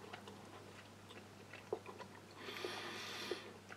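A soft raspberry and apple food bar from a New Zealand 24-hour ration pack is chewed close to the mic, with faint, sticky mouth sounds and a few small clicks over quiet background hiss.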